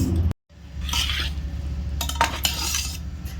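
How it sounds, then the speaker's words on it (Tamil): Tomato rice being stirred in a pot with a utensil, scraping and clinking against the metal in a steady close-up rhythm with a soft sizzle underneath, no talking. "தக்காளி சாப்பாடு இப்போ கலரிடலாம்"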